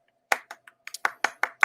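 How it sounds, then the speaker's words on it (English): Brief applause at a comics shop live sale: about eight sharp hand claps in an uneven, loose rhythm, close and fairly thin, as from one or a few people. "Pause for applause."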